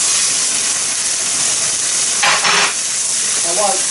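Salmon marinated in Worcestershire sauce and black pepper fries in olive oil in a pan with a loud, close, continuous sizzle and hiss, swelling briefly as the fillet shifts. A voice speaks faintly near the end.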